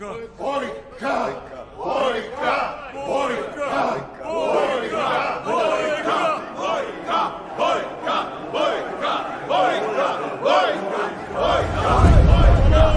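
A big fight-movie crowd roars and chants in rhythmic surging waves, loud and sustained, with a heavy low rumble building near the end.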